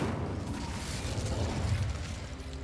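A fire spell cast in the Hogwarts Legacy video game gives a sustained, loud whooshing roar with a deep rumbling low end that holds steady for nearly three seconds, with no talking over it.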